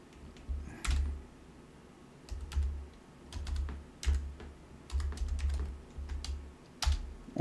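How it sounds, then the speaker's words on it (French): A password being typed on a computer keyboard in short bursts of quick key clicks separated by pauses, close and clear with no voices. "On va donc taper un password."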